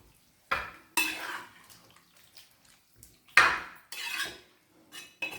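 Utensils scrape and knock against a cooking pot while food is stirred, in several separate bursts of clatter with quiet gaps between them and no talking.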